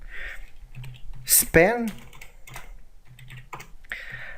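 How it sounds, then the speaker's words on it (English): Keys typed on a computer keyboard while coding a Bootstrap navbar, soft scattered clicks in short bursts, with someone speaking over part of it. "let me just type that"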